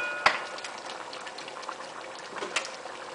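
Catfish curry with okra simmering in a pot, a soft, faint bubbling and popping that runs steadily throughout, with a couple of slightly sharper pops near the start and end.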